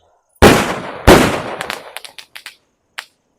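Sivakasi firecrackers bursting: two loud close bangs followed by a rapid scatter of smaller crackling pops that fade, with one final isolated pop.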